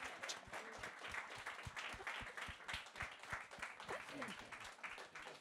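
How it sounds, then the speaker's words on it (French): Faint, distinct handclaps from a small audience, a loose, uneven patter of individual claps with some voices murmuring underneath. "j'aimerais que le public applaudisse"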